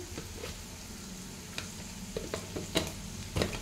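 Ridge gourd curry frying in a pan, a soft continuous sizzle broken by occasional spatula scrapes and small pops, fairly quiet and close.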